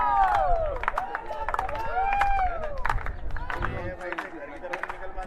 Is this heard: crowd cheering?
yes